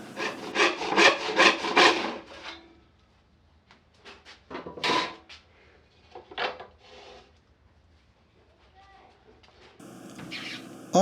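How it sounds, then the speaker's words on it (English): A hand saw rip cutting a wooden board lengthwise through the middle, rhythmic rasping strokes that come in bursts, loud at first and then more intermittent with pauses, close up. "I'm rip cutting it through the half"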